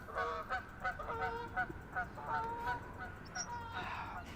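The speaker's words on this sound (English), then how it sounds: "Here we have geese flying overhead." Geese fly overhead in Fort Worth, sending out repeated honks over a steady outdoor background hiss during a solar eclipse livestream.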